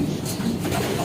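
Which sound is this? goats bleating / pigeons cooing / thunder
pigeons cooing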